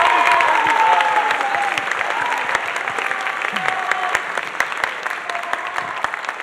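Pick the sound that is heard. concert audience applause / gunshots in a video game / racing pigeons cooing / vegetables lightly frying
concert audience applause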